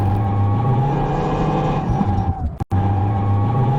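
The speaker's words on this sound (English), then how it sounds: "the car engine is roaring at high speed." An AI-generated car engine roars steadily at high speed, loud and close, with a constant droning hum that cuts out abruptly for a split second near the end before resuming.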